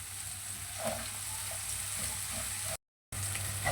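Onion, green chili and ginger fry in a pan with a soft, continuous sizzle and faint stirring scrapes. The sound is quiet and steady, with one brief dropout, and no one speaks.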